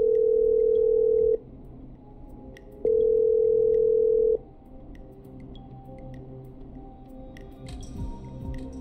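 In the horror game Killer Frequency, a phone line rings with two long steady electronic tones separated by a pause, followed by a low hum and faint clicks, loud and close with no talk.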